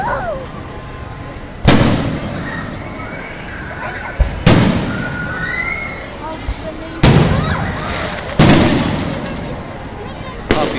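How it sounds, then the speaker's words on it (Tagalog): New Year fireworks at SM Baguio burst in four loud booming blasts spaced a couple of seconds apart, each followed by crackling and a rumbling tail, with faint whistles between them and voices talking in the background. "Oh, there's the fireworks."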